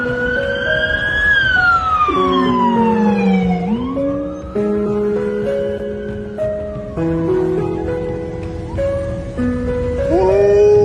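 A wailing ambulance siren rises and falls continuously while a golden retriever dog howls along, imitating it with sliding, siren-like wails close by.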